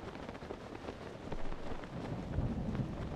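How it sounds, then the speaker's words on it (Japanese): Thunder during a rainstorm in the video game Zelda: Tears of the Kingdom, a low distant rumble that swells midway over a steady bed of rain hiss. "やばい！ 雷！"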